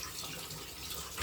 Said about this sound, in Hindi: और बर्तन धोए जा रहे हैं।